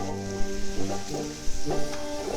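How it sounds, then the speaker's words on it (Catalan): Rice with Tarragona rock octopus fries in a restaurant kitchen, a bright sizzle with a few stirring scrapes heard beneath tonal music. "ens mostren l'elaboració de l'arròs amb pop roquer de Tarragona"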